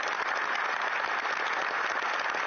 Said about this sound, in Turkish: ayakta alkışlandı